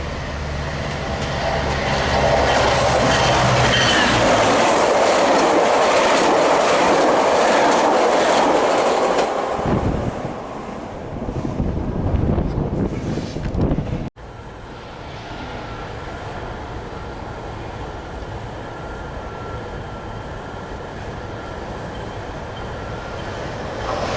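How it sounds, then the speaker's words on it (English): A Metrolink commuter train passes at Commerce, rumbling loud and close with clattering wheels for about ten seconds, then a brief swell before fading into a quieter steady hum. "Here is Metrolink"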